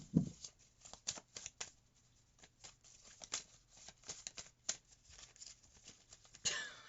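Soft, quiet shuffling of tarot cards, a series of irregular riffles and taps close by, with no talking.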